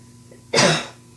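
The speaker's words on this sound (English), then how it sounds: "Sorry, I'm going to cough." A single harsh cough, loud and close, after a moment of quiet room tone.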